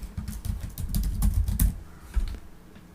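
Someone typing a name on a computer keyboard, a quick close run of sharp key clicks in an uneven rhythm that trails off after a couple of seconds, with no speech.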